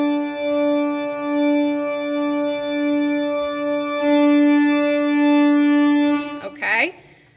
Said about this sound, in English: you see how it kind of gets louder as you go, the more air you give